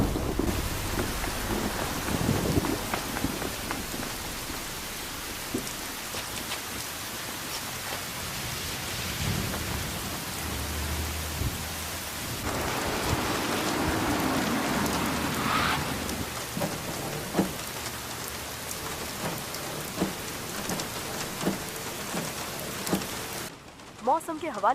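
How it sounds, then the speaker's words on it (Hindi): Heavy rain pours steadily in Seoul with rolling thunder swelling in the middle, a dense continuous wash of drops, and faint voices briefly underneath. "सियोल का मौसम देख के ऐसा लगता है कि बारिश थमने नहीं वाली।"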